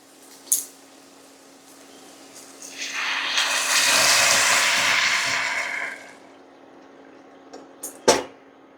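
Water pours into a pan for making upma, a rising and falling rushing stream lasting a few seconds, bracketed by sharp clicks and knocks of the cup and pan.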